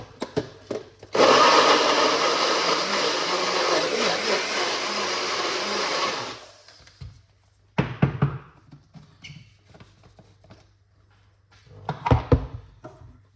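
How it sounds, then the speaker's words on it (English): Countertop blender whirring loudly through carrot and pumpkin punch for about five seconds, then stopping, followed by a few clunks and handling sounds. "Cover it, and we're going to blend it."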